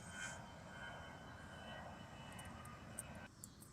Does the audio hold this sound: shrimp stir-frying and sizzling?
no